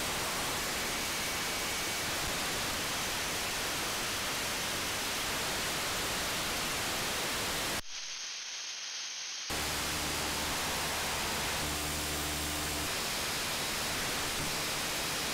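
Radio static hisses steadily from an RTL-SDR v4 software-defined receiver, broad and even, cutting out briefly in the middle before the hiss returns with faint tonal hums underneath.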